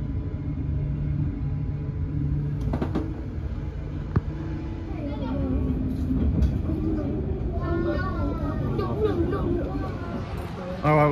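Steady low rumble of a moving train carriage, with people talking throughout and occasional clicks and rattles.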